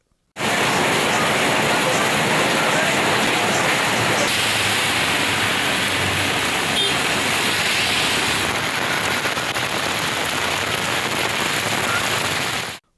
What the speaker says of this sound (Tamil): ஸ்ரீவில்லிபுத்தூர் நகர் பகுதியில் பரவலாக மழை பெய்தது